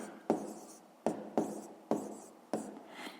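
Handwriting numbers during a 5th-grade maths exercise, probably pen or chalk strokes: four or five separate scratchy strokes, each starting sharply and fading, close and fairly quiet with no talk.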